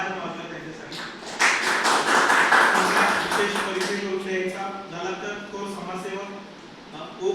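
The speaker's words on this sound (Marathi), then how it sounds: "एका जोरदार टाळ्या" Audience applause at a vocational training centre event rises as a burst of clapping and fades over several seconds, with a voice talking over it.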